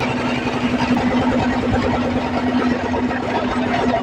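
A boat's engine running steadily as the vessel pulls away from the shore in Barisal, a loud continuous low hum and drone with no breaks and no talk.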